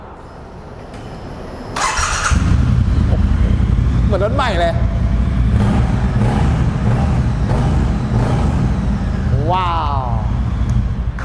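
A 2021 Triumph Bonneville T120 motorcycle fires up with a brief starter whirr, then settles into a loud, steady idle rumble, with a voice speaking briefly over it.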